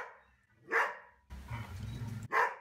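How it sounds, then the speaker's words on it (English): A dog barks twice, loud and nearby, in a backyard, with a short burst of rustling noise between the two barks. "What are you barking at?"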